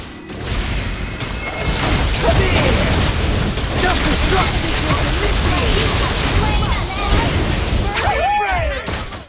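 A Mobile Legends team fight erupts in dense, continuous crashes, booms and whooshing skill effects, layered and chaotic, ending in a rising swoosh, with a voice talking over the game sounds.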